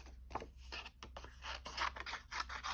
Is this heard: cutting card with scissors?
yes